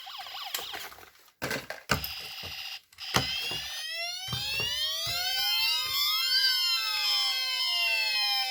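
A toy security car siren wails in rising and falling sweeps after a few clicks and clatters, loud, close and continuous.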